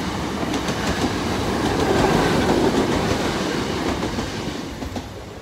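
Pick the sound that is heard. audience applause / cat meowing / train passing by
train passing by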